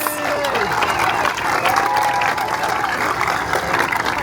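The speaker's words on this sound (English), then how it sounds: "Let's give them a big round of applause" Vigorous applause and cheering from an outdoor crowd at a state fair ribbon-cutting ceremony, honouring the fair's band and choir. Dense clapping continues at full strength while voices call out over it.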